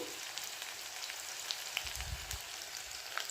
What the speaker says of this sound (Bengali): দিয়ে দিচ্ছি এখন পেঁয়াজ কুচি তেলটা গরম হয়ে গেছে